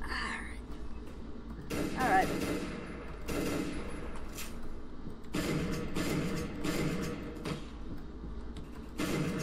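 Gunfire in the Roblox game Phantom Forces comes as repeated bursts of rapid shots, fairly quiet and separated by short gaps, with a player talking over the firing.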